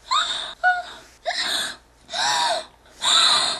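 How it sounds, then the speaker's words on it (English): Four sharp breathy gasps, close and loud, separated by brief silences, rising in pitch like startled intakes of breath. "and gasp"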